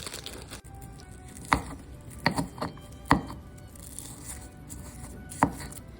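Salt flakes being crushed with garlic on a board, a handful of sharp separate taps and scrapes spaced a second or so apart against a quiet background.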